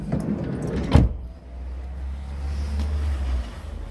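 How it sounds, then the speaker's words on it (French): A camper van's step retracts with a brief clatter, and then the van door slides shut with a firm nearby thump, followed by a low steady rumble. "je rentre le marchepied, je referme la porte"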